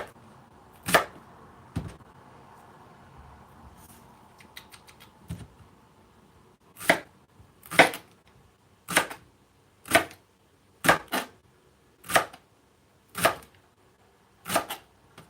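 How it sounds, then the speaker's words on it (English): A knife chops an onion in a row of sharp, distinct strikes, a few spaced out early and then a quicker, regular run of about eight firm taps, close and alone. "Chopping is definitely easier with a bigger knife"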